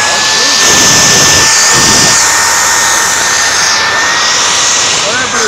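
A bag-type Airider vacuum cleaner runs with a steady, loud whining roar at a busy home and garden show, a voice talking over it.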